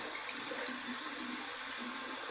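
Cold tap water runs steadily over an alum block at a sink during a wet shave, a continuous close splashing rush with no talk.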